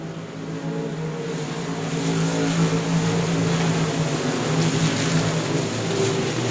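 Race cars circle the South Texas Speedway track in the Jerry Whiteaker Memorial A Main under a caution flag, their engines making a continuous loud droning hum with a slowly rising roar and no talk over it.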